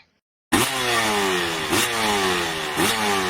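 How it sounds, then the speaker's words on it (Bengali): A Hero Honda motorcycle engine in a Bengali comedy cartoon bursts in after silence and revs loudly and close, rising in pitch and surging again twice in a rhythmic pattern. "এটা হিরো হন্ডা বাইক"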